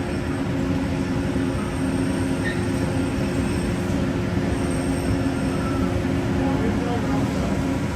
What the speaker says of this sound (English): I'm going to see if I can get in the nose cone or the tail cone of the monorail